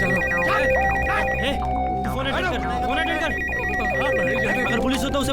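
A telephone rings in a Hindi comedy film scene, with repeated electronic ringtone bursts that carry on steadily while voices talk over it.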